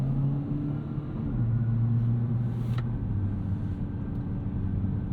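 A 2022 Kia Forte GT accelerating up to highway speed, its steady engine drone and road rumble loud and constant from inside the cabin throughout.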